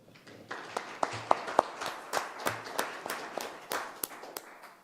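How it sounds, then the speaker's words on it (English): A small group at a town commission meeting claps for a district assistant, a sparse, uneven patter with individual sharp claps standing out, loosening and thinning toward the end. "Could y'all give her a round of applause?"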